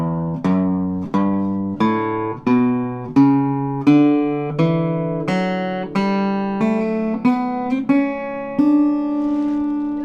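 Guitar in open D tuning plucks a major scale note by note, each tone ringing clearly and decaying in a steady, even rhythm, loud and close with no talk.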